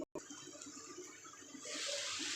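Water poured into a hot pan of capsicum and paneer, a steady splashing hiss that swells louder and brighter partway through, close by with no talk.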